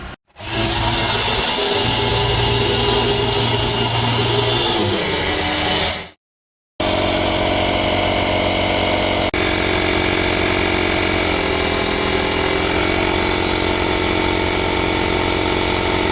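A car engine, run in an open garage, drones loud and steady after a short break, idling evenly with a constant mechanical hum and no talking.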